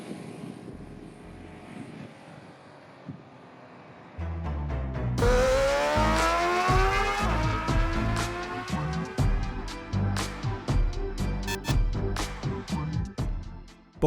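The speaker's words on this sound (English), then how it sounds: "we're going to take the 2021 BMW G310R for a ride" A 2021 BMW G 310 R single-cylinder motorcycle starting off on a ride, with a quiet idle followed by the engine revving up loudly through rising gears close by.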